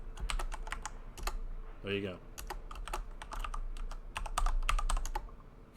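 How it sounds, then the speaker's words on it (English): Rapid clicking on a computer keyboard while typing a chat message in the game No Man's Sky, bursts of keystrokes close and crisp across several seconds, with someone briefly talking in the middle. "if you run across somebody and they start typing to you, you can type back"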